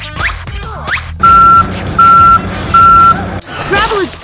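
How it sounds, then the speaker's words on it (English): A toy-scale dump truck at a miniature road-building site gives three evenly spaced reversing beeps, loud and close, amid clattering and scraping noises. "The dump truck fills the hole with sand."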